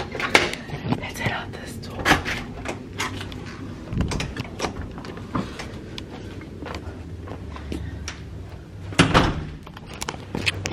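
A door is opened and shut as someone heads out on a family Christmas holiday trip, with scattered clicks, latch and handling knocks, and light footsteps close by.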